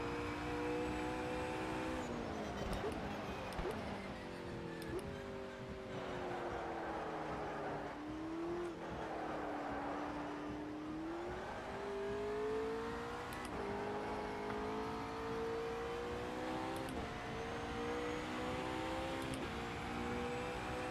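A McLaren race car engine in sim racing, droning steadily with smooth rising and falling pitch as it revs through gears and corners, a continuous close whine over a wet track.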